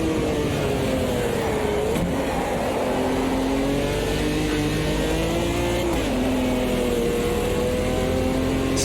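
A race car engine in Automobilista 2 holds a steady high drone with rising and falling pitch as the throttle is worked, with brief dips at shifts, continuous and close throughout.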